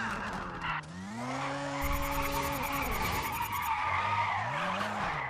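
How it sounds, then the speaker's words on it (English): A car in the GRID racing game drifts under the handbrake, its tires squealing in long rising and falling wails over a revving engine, loud and close with no voices. "Well, that was a drift"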